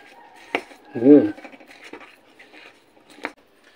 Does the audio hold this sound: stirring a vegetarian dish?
yes